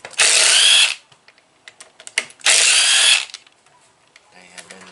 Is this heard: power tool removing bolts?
yes